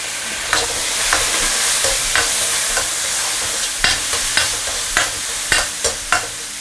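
Ginger and garlic slices with chili peppers stir-fried in a hot wok, a steady loud sizzle broken by repeated scraping clacks of the spatula at an uneven rhythm, close up with no voices.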